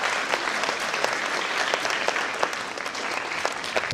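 Guests in a hall at a literary and music festival in Poltava applaud, a full, even round of clapping that carries on steadily throughout.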